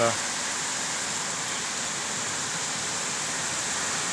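Heavy summer rain pouring down in a steady, dense hiss, constant and fairly loud with no breaks, a sudden downpour cooling the heat.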